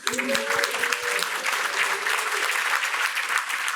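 Audience claps at a conference to thank a foundation funder, steady scattered applause at moderate level, with a speaker's voice briefly heard at the start.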